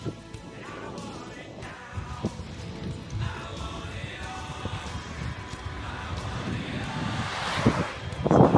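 Wind buffets the microphone while cycling through the Orlické podhoří foothills on a long tour, a steady broadband rush that swells louder toward the end, with someone speaking briefly.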